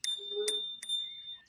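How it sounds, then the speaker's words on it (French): A small bicycle bell on a Flebi Swan electric fat bike is struck several times, giving bright, clear rings with short ringing tails, close by and quiet. "À droite, on a une véritable petite sonnette."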